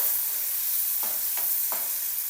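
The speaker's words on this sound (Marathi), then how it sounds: "कांद्याला लालसर होईपर्यंत परतवायचं।" Chopped onion, crushed garlic, cumin and asafoetida fry in hot oil in a pan, giving a steady sizzle. Three short scraping stirs sound in quick succession over it, and no one speaks.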